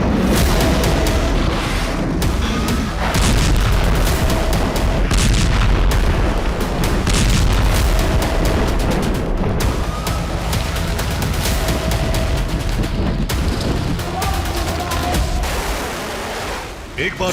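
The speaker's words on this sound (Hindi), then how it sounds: "एक बार फिर लाल सागर का इलाका मिसाइलों के हमलों से दहका।" Explosions from missile attacks in the Red Sea, a continuous heavy rumble of booms and blasts, dense and loud throughout, with sharper bursts standing out now and then.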